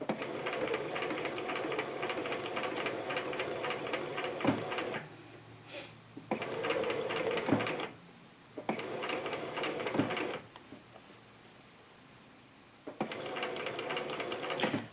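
A sewing machine runs in bursts of steady rapid stitching, stopping and starting several times with quiet pauses between runs.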